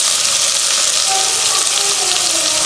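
Garlic and onion sautéing in a hot pan, a loud, even, close-up sizzle and crackle of frying that runs continuously without pause or voices.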